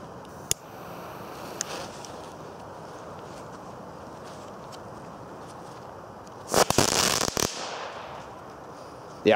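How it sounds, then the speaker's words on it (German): Outdoors, Comet (Keller) Power Balls fireworks send out a loud, dense flurry of crackling bangs lasting about a second after a quiet windy lull with a few stray pops, then another bang right at the end. "Hat Kügelchen drin, hat einen Standfuß und hat lautes Crackling."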